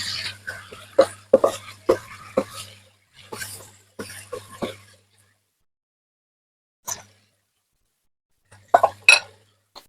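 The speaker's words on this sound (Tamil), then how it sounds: "வெட்டி வச்சிருந்த உருளைக்கிழங்க இந்த கலவையோட சேர்த்து நல்லா கிளறி விட்டு கொள்ளுவோம்" Cut potatoes are stirred into a fried meat mixture in a pan for mutton rolls, giving bursts of close clanks and scrapes from the utensil against the pan, then a quiet pause and a few final knocks.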